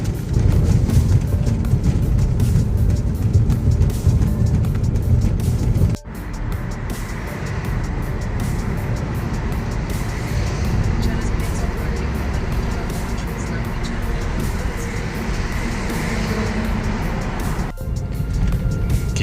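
A car towing a trailer drives along a road, a constant loud rumble of engine and road noise from inside, with a brief bump and a shift in tone partway through.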